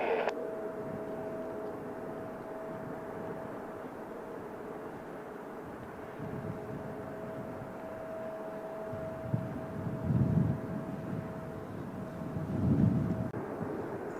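A Lufthansa airliner at San Francisco airport makes a steady jet rumble with a sustained whine, swelling slightly near the end, heard from a moderate distance with no talk.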